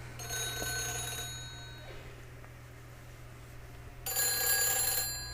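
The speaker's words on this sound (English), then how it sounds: "Ring, ring, ring, ring, ring, ring, phone call." A telephone rings in Silent Hill 3, a trilling electronic bell heard in two bursts with a quiet gap between them, clear and fairly close over a low background hum, with no talking.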